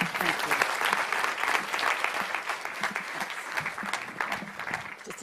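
An audience applauds steadily throughout, a dense wash of many hands clapping at moderate volume, with a few faint voices mixed in.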